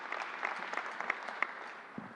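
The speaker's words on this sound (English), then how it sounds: "Let's give them a round of applause and thank them for everything they're doing." An audience at a public announcement event at Suffolk Community College claps in a steady patter of applause, moderately distant and fairly quiet, with no talking over it.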